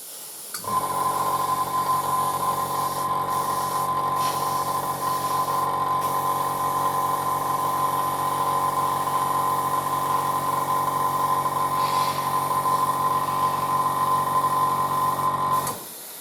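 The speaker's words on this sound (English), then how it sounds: "Every now and then you want to just like spray air through your airbrush to help it dry." Compressed air spraying through an airbrush used for painting a Panzer IV model, a steady continuous hiss with a mechanical whine that starts abruptly, holds at even loudness for about fifteen seconds, then cuts off.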